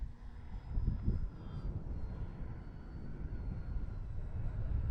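An Arrows RC Tecnam model airplane drones steadily at a distance in gusty wind, a thin engine tone under a low rumble of wind buffeting the microphone, continuous and fairly faint, no voices.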